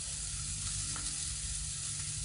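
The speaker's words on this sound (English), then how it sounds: "You can hear that sizzling right there." A filet mignon steak sears in a hot pan with a loud, continuous close sizzle that holds steady throughout.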